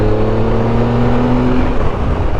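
A 2017 Triumph Tiger Explorer XCx adventure-touring motorcycle pulls a fourth-gear roll-on, its engine droning steadily and loudly as it gains speed, with heavy wind rush and no talking.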